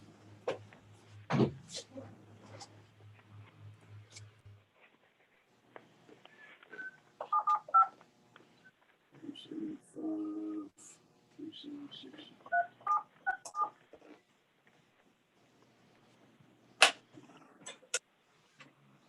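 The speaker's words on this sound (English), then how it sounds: "I'll try to call him, Chad." Telephone touch-tone dialing beeps, a short run of steady tones early on as a call is placed during an online planning and zoning board meeting, followed by faint scattered clicks and quiet voices talking.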